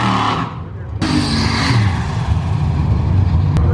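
First-generation old-school cars drag race on a prepped track, with loud engines roaring and rising as they launch and accelerate. The sound is distant and continuous, with a voice talking over it.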